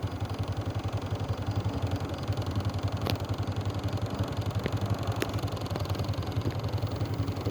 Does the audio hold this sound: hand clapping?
no